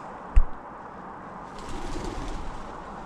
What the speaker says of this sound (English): Pigeons everywhere flying out.